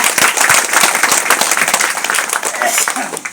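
Loud, dense applause from a crowd at a village gathering in India, steady clapping filling the whole stretch with scattered sharper claps, voices faintly mixed in.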